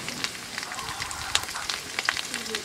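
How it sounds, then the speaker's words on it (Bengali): Dry ground turmeric, chilli, coriander and salt frying in hot oil for a duck egg curry, a soft steady sizzle with scattered small crackles and pops, close and moderately quiet, no talk. "এভাবে আমি গরম তেলের সঙ্গে শুকনো মশলার উপকরণগুলো প্রথমে খুব সুন্দরভাবে ভেজে"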